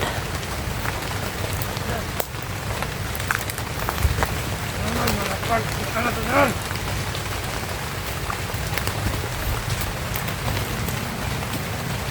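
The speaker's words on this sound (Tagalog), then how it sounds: "Malakas na yung ulan." Heavy rain pours steadily in a dense, continuous hiss, with a few faint voices briefly rising beneath the downpour.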